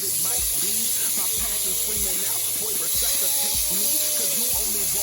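Steak sears in a hot pan with a steady, broadband sizzle and hiss throughout, continuous and close, with faint background voices beneath.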